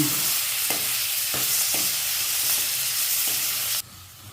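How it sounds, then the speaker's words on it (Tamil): Onion and tomato sautéing in a pan for a Tamil manathakkali greens soup, a close continuous sizzle with periodic stirring scrapes about every half second, cutting off sharply near the end, no talking. "தக்காளி வதங்கிடுச்சு. ஆமாம், நல்லா வதங்கிடுச்சு."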